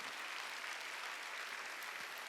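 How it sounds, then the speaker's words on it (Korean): Church congregation at a Sunday worship service clapping in unison, a brief, even wash of applause heard faintly from a distance. "박수로 하나님께 영광하리라."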